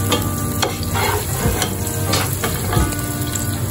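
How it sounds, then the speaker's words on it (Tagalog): Onion and garlic being stirred and sautéed in a non-stick pan, with a steady sizzle and repeated scraping strokes of the utensil, close and continuous, no talking. "Brown ng ating ginisang sibuyas at bawang."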